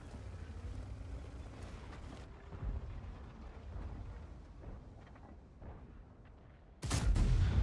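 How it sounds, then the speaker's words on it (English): A heavy tank's cannon fires in World of Tanks, a sudden loud, booming blast near the end that follows several seconds of steady low engine rumble and battlefield noise. "I misaimed here and shot into a wrong spot"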